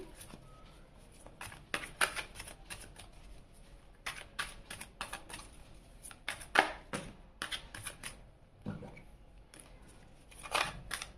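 A deck of tarot cards is shuffled and cards are drawn, giving repeated quick riffles and crisp card snaps in irregular bursts, close by, with a voice talking softly in between.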